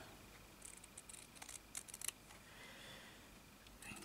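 Scissors snip through material while making a bag, a short cluster of crisp cuts around the middle with a few more at the end, close and fairly quiet over faint room hiss.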